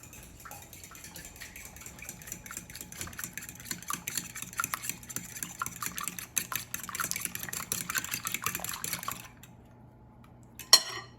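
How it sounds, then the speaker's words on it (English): Ingredients for yellow cake mix cookies whisked with a fork in a bowl, rapid clinking and tapping of metal against the dish that builds in pace, then stops with a final sharper knock. "And I will whisk them with a fork"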